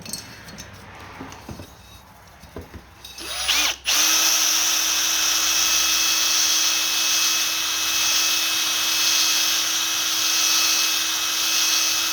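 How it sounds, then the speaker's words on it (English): A cylinder hone spins inside the cylinder of a Honda Rancher 350 ATV, starting after a few seconds of quiet handling clunks and then running as a loud, steady, high-pitched whirring grind to the end. "in and out like this while it's rotating, that's how you get that crosshatch marking on there"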